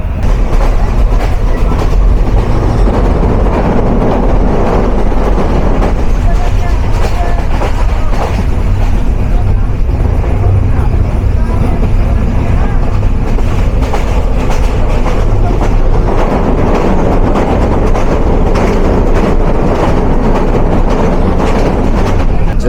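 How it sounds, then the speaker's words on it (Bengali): Nilsagar Express passenger train rolling on broad-gauge rails at about 40 km/h on a rainy journey, heard from inside a non-AC chair coach: a loud, steady rumble with rhythmic wheel clatter throughout and no voices. "আমাদের ট্রেনের বর্তমান স্পিড রয়েছে ফর্টি কিলোমিটারের আশেপাশে আর top speed seventy six kilometre"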